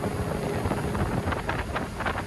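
A Bayliner 245 with a MerCruiser 5.7L 250HP Bravo III sterndrive cruises at about 3,000 RPM and 20 mph, a steady engine drone blended with rushing wind and water, continuous and fairly loud with no talking.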